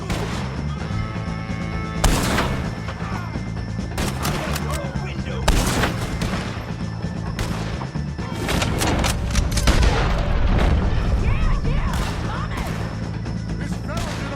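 Gunfire in Red Dead Redemption 2, a shootout with O'Driscolls: repeated sharp shots and booms over a dense, continuous game din, with shouting voices mixed in throughout.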